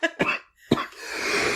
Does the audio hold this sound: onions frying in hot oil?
no